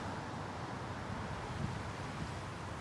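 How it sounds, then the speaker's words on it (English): Wind swirling across a golf course at a mixed professional tournament, a steady broadband rush with faint rustling, even and moderately quiet throughout, no talking. "Wind seems to be swirling out here."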